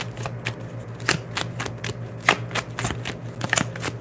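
A Rebel Deck love card deck is shuffled by hand, a quick run of crisp riffling and tapping bursts, close and clear with no talking.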